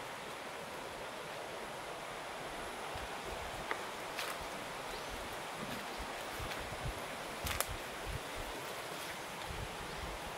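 Strong wind blowing around a rural hut at night, a steady loud roaring rush with microphone buffeting and a few brief rustling bursts, no voices.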